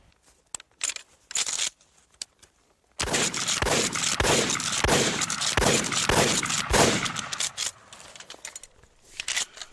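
Several loud, sharp shotgun blasts from an Ithaca Model 37 pump shotgun, fired in quick rhythmic succession with the slide pumped between shots, after a few quieter clicks and handling sounds.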